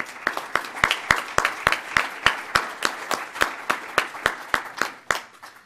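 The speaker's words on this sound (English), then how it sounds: "Please, a round of applause." Slow, evenly spaced claps ring out one after another, about three a second, sharp and fairly close. It sounds like a small audience at a civic club luncheon giving a round of applause with no voices over it.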